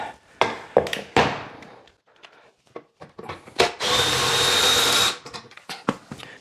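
Scissor lift jack being cranked up under a Jaguar XK8, with irregular clicks and knocks followed by a steady mechanical whirr lasting about a second, close and fairly quiet, without talking.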